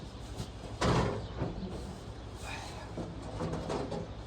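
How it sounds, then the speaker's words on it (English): A door in a farm outbuilding housing a 1954 Fordson Major tractor swings shut with one firm, close thud near the start, followed by quieter rustling and handling noise. "to shut this door."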